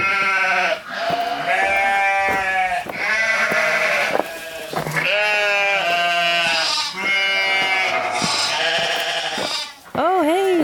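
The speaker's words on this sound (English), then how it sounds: "the sheep are coming in too" Sheep bleating loudly and repeatedly in a farm setting, several overlapping wavering calls filling the whole stretch, close by with short pauses between bursts.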